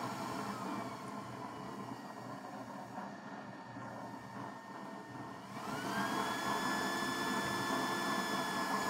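A 1.2-amp blower fan on a used-oil burner stove whirs steadily with a rough, droning hum that grows louder and higher-pitched partway through. No one speaks.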